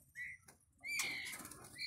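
A Medan oriental magpie-robin (murai) in a breeding cage gives faint, clear whistled notes, one short phrase and then a longer sustained one, in an otherwise quiet space.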